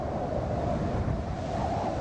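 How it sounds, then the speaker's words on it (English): Wind gusting steadily in The Forest video game, a continuous broadband rush with a surf-like roar, fairly loud and uninterrupted, with no talk over it. "Oh, it's windy."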